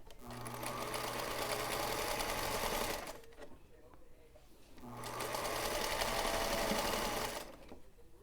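A sewing machine chain-pieces quilt rows in two long, steady bursts of fast stitching, close and even, with a quiet pause between them where a voice can faintly be heard.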